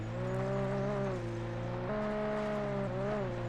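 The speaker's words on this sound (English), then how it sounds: "Sounds more like a moped, though." Jeep engine in Alan Wake Remastered, droning with a thin, buzzy, moped-like tone; steady revs shift pitch up and down as the off-road vehicle drives, with no talk.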